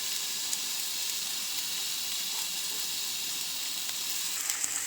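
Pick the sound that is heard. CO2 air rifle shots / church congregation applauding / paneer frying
paneer frying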